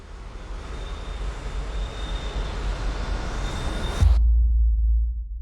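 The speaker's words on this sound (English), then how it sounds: "Sounds a bit like a plane taking off." A broad, rising whoosh from an Evolution Dragon riser swells steadily for about four seconds like a plane taking off, then cuts off into a deep, sustained sub-bass rumble.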